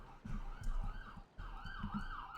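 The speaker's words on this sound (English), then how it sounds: "I don't know if you guys can hear this ambulance driving by my apartment" A wailing ambulance siren sweeps up and down twice, fairly loud and steady over low rumbling traffic outside an apartment, no voices.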